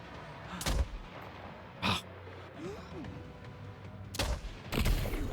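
Several gunshots sound in the video game Death Stranding 2, about four sharp, loud blasts spaced irregularly over a low game ambience.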